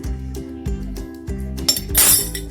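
Spoon clinking against a bowl while chicken malai tikka marinade with garam masala and oil is stirred, repeated metallic taps over a low, steady scraping.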